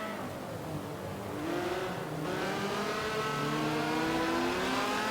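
An engine note climbs and shifts through gears as the race leader's car drives a lap in a sim racing game during an ETR Rising Sun Series race, a continuous, rising whine heard alone.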